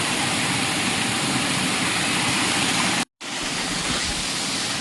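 Water rushes down from Girnar mountain near the Jata Shankar temple in the forest, a loud, unbroken roar that cuts out briefly for a moment before resuming.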